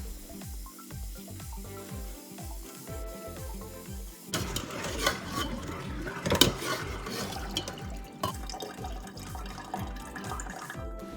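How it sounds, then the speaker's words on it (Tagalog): Cooked macaroni rinsed with ice-cold water and drained, with running water splashing and trickling steadily, louder in the middle stretch, over a low rhythmic thumping background. "hugasan natin ng ice cold water ang nalutong macaroni at saka natin ito"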